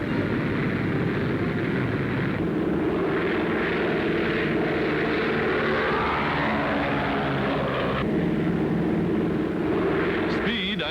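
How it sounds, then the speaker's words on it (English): A de Havilland Mosquito wooden bomber flies aloft on a 1942 test flight, its propeller engines giving a loud, sustained droning roar that swells and shifts in pitch across the whole span. "the Mosquito is said to be the fastest bomber in the world."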